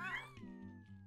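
A cat in the video game What The Golf? lets out a single drawn-out, whining meow, clear and close, sliding down in pitch and trailing off over a low musical background.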